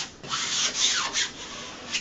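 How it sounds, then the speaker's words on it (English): A squeegee rubs and scrapes across a peel-and-stick wall mural in steady, overlapping strokes, close and moderately loud with no talking. "you just want to take your squeegee"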